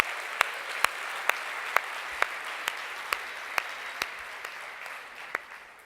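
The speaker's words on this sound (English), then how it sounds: "we should give ourselves a round of applause" Audience at a digital industry summit in Johannesburg breaks into steady applause, a dense wash of clapping punctuated by a few sharp, louder individual claps at a regular beat, fading at the end.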